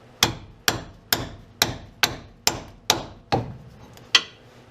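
Eight sharp, evenly spaced hammer blows on a masonry chisel, struck close by while working on the steering shaft of a 2000 Dodge Ram 1500, each strike ringing briefly before the next, with no talking.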